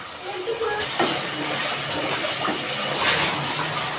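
Water is poured into a bowl of spice paste, ground coriander and cumin, while a fish curry is being cooked: a steady, close splashing and trickling that lasts throughout.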